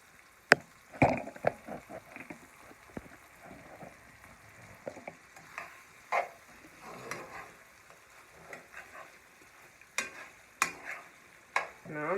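Teriyaki chicken frying in a pan as it is flipped and stirred with a spoon, giving a steady low sizzle broken by sharp scraping clacks and taps of the spoon against the pan, close and fairly quiet.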